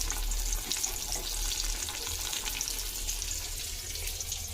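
Rohu fish pieces frying in masala oil, a continuous crackling sizzle with bursts of spattering as pieces go into the pan, moderately loud and close with no voices.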